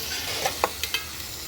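Onions fry and scorch in a pan with a steady broadband sizzle, broken by a few sharp scrapes and clacks of stirring.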